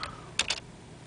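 A computer keyboard being typed on while running commands on a Raspberry Pi, giving a couple of faint, quick clicks close by in a quiet room.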